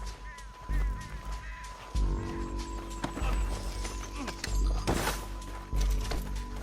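Horse hooves clip-clop at a gallop in the Red Dead Redemption II video game, a steady near rhythm under game music and engine-like hum, with a brief whinny and voices calling out now and then.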